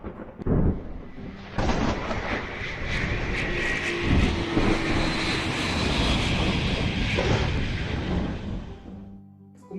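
An airplane's engines roar loud and steady, a broad rushing noise sustained for about ten seconds after a sharp start, with no talk over it.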